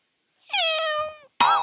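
A cartoon voice tries to imitate a tiger but produces a drawn-out, cat-like meowing wail, then a second short, higher yowl.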